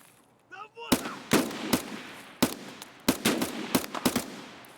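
Mosin rifle fire in Escape From Tarkov: a run of sharp, loud cracks at irregular intervals with short echoing tails, after a brief stretch of quiet voice at the start.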